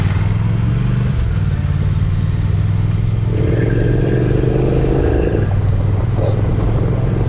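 A Triumph Thruxton TFC motorcycle's torquey engine rumbles loud and close while riding, its drone rising and shifting pitch as it pulls through low revs, with steady wind noise throughout.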